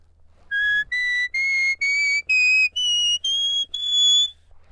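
A sheepdog whistle plays a rising musical scale, eight clear sustained notes in steady succession, each separated by a brief gap, the last held slightly longer, loud and close with nothing else heard.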